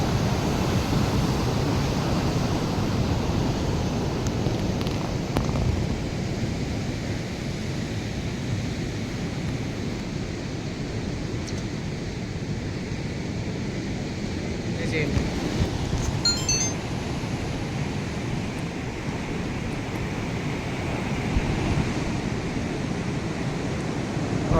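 Large ocean waves break on a rainy shore at sunrise, a continuous rolling roar with wind buffeting the microphone and no clear talk.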